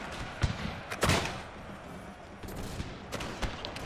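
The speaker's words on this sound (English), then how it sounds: "Oh, that was the grenades going in." Grenades exploding in a Pike and Shot video game battle between Ottoman and Polish armies, heard as a string of dull thuds and crackling bursts over a steady noisy battlefield din.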